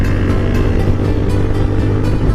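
A loud, steady engine drone comes from a nearby sports touring motorcycle, holding an even, continuous rumble with no voices over it.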